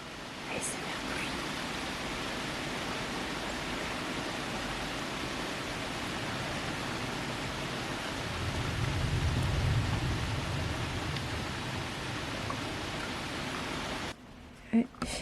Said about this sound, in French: Mais il pleut des cordes,